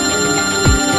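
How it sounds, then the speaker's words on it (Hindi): A phone rings with an incoming call in an office scene from a TV drama, a steady tonal ringtone carrying on alone and fairly loud for about a second, with no talk over it. "उनके भाई का फोन आ गया"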